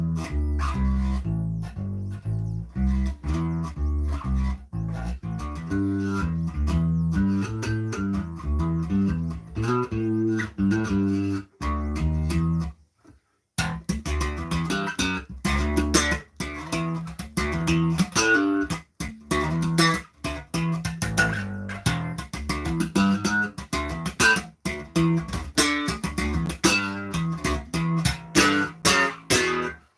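Electric guitar through a chorus effect pedal set to S mode, option 1, a continuous run of picked notes and chords with one short pause, played alone without speech.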